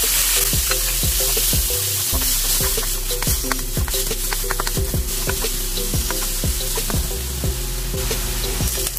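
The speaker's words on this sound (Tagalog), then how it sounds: "isangkot siya na natin yung ating pork" Pork sautéed and stirred in a hot pan for a Filipino pancit bihon and canton dish, giving a steady close sizzle broken by repeated scraping strokes of the spatula in an even rhythm, with no talking.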